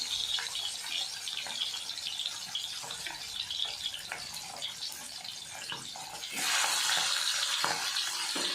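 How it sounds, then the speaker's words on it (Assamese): Magur catfish pieces rubbed with turmeric and salt fry in hot oil in a kadai, giving a soft, crackling sizzle with scattered pops that swells louder near the end. "এতিয়া এপিচ এপিচকৈ মাছ ফ্ৰাই কৰি ল'ম।"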